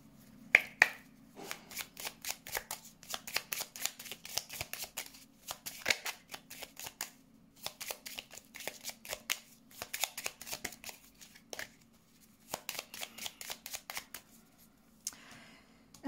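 Lenormand fortune-telling cards are shuffled by hand in steady bursts of rapid riffling and flicking close by, with short pauses between rounds and no voice over them.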